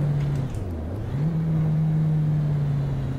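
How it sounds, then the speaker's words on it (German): Porsche 911 Turbo engine in the Assetto Corsa racing game, a loud, close steady drone that dips as the throttle lifts and the gear changes from second to third, then settles back to a sustained hum. "Man muss mal genau hinhören. So ein bisschen dieses Rotzige vom zweiten in den dritten Gang."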